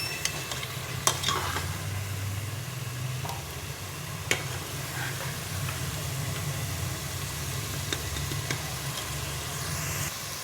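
Ground masala fries in oil for a pressure-cooker mutton biryani, giving a continuous close sizzle with occasional clicks and spoon taps over a steady low hum from a stove or fan, with no talking.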